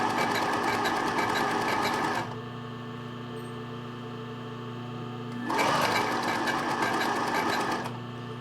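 A sewing machine runs straight stitches on lace trim for bra making, whirring loudly for about two seconds, pausing to a quiet hum, then starting up again for another stretch of steady, rapid needle chatter.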